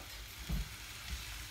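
Onion frying in oil in a pan until golden, a faint steady sizzle with a couple of soft low bumps.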